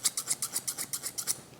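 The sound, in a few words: grooming scissors trimming a dog's fur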